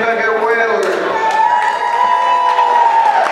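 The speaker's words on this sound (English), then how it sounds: "Good crowd here today. They're already cheering." A boys' high school basketball crowd in a gym cheers and whoops before tip-off, a steady roar of voices with scattered shouts, heard over the announcer's voice.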